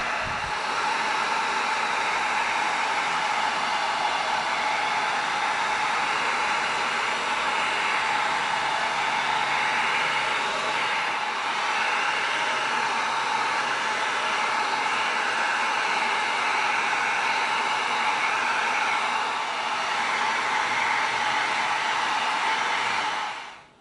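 A heat gun blows hot air over EVA foam to seal and tighten it, a loud, steady whooshing roar that holds nearly unchanged for the full duration before cutting off at the end.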